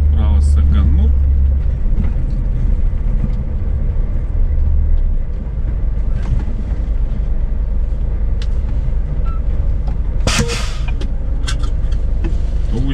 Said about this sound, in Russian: автобусики ездят